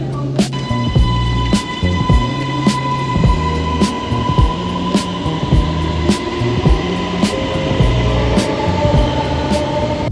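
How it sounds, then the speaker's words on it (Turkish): A metro train rumbles through Ulus underground station in Ankara, steady low mechanical roar with rhythmic clacks of wheels over rail joints and a faint high whine. "Ulus metrosundayız."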